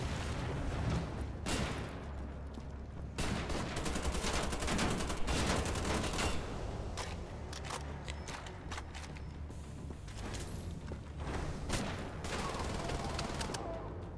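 Gunfire in the video game Wolfenstein: The Old Blood, with dense, loud volleys of rapid shots and bursts running nearly continuously, layered over a steady low rumble of game sound and no speech.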